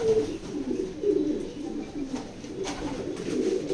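Racing pigeons cooing softly in a loft, low repeated coos at moderate distance over a faint background hum, no voices present.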